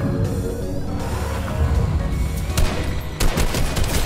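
Gunfire in Fortnite, bursts of rapid shots cracking over a dense, noisy game soundscape, with a few sharper loud shots toward the end.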